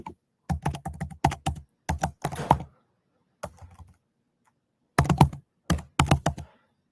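Fingers type a web address on a computer keyboard in quick bursts of close key clicks, with brief pauses between groups of keystrokes.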